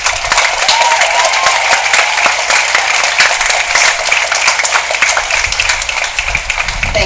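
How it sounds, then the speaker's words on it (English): Steady applause from a graduation audience honoring a Bright Flight Scholar from the high school class of 2015, a dense wash of clapping sustained across the whole stretch without spoken words. "definitely deserves applause for that outstanding achievement"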